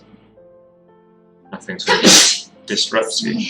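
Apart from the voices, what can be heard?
sneeze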